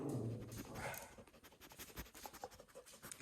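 A pet dog at home pants and snuffles up close, with scratchy movement noises, the breathing loudest near the start and fading into soft rustling.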